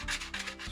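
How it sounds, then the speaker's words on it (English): Sandpaper rubbed by hand over rough edges in quick, faint back-and-forth strokes, about three short passes with nothing else heard. "you can just take some sandpaper, smooth them up a little"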